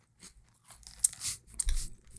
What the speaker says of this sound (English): We're just silently now. eating stuff with like dead air and crunching.